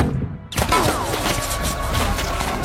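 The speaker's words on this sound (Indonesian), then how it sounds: "Sontak saja pasukan dikepung dengan rentetan peluru dan roket yang siap melumpuhkan pertahanan mereka" Dense volleys of gunfire and rocket blasts roar through a war film battle against Taliban fighters, loud and continuous after a brief quieter opening.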